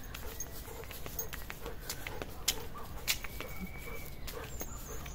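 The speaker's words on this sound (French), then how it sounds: "T'entends les oiseaux bizarres?" Outdoor ambience with odd bird calls, including clucking fowl and short sharp chirps, against faint background noise and an occasional dog bark.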